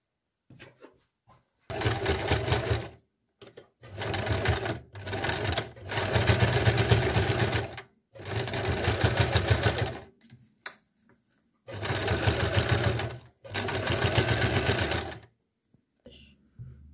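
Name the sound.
sewing machine stitching a 2 mm seam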